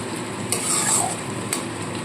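Spice paste for a coriander fish curry is sautéed in oil, a close steady sizzle with two brief scrapes of the spatula against the pan.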